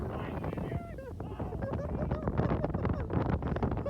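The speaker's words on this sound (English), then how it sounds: "It's windy up here." Steady gusts of wind buffet the microphone on a snowy hilltop during sledding, a continuous rough rumble with people talking over it.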